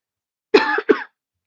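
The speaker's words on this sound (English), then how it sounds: "I'm coughing for no reason" Two quick coughs close to the microphone, one right after the other, in an otherwise quiet room.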